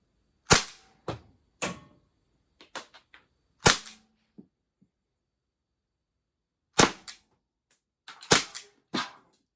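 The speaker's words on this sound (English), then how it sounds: "that's several shots" Umarex T4E Glock 17 training pistol firing aluminum ammo at close range, a series of sharp cracks with several single shots followed by a cluster of rapid shots after a pause.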